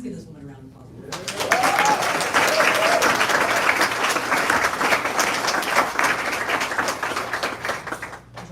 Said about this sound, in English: please give this woman a round of applause